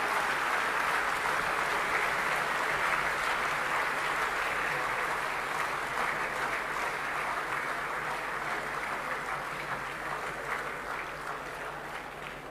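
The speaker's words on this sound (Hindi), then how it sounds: "जोरदार तालियों से स्वागत करें माननीय प्रधानमंत्री जी का।" An audience at the inauguration ceremony of the IECC in Delhi applauds to welcome Prime Minister Modi, a steady, even wash of many hands clapping that runs on without a break and fades slightly near the end.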